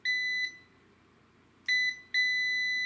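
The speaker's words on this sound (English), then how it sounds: "anything that's lower than 30 ohms will display a beep" A VENLAB VC-600D clamp multimeter giving its continuity beep: a loud, clean electronic tone sounding in three bursts, one long, then two more after a quiet gap, with no talk.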